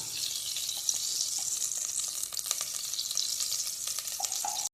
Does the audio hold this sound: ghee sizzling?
yes